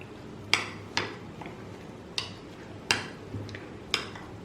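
Dough ingredients are mixed with salt and milk in a bowl for Georgian khachapuri: a utensil clinks and taps against the bowl about seven times, close and irregular, with no speech.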